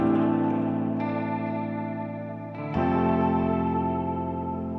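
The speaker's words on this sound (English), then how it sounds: "just like some pretty guitar, atmospheric stuff" Pretty, atmospheric guitar sample with chorus-like effects, sustained shimmering chords that fade slightly before a brighter new chord rings out, playing steadily and alone.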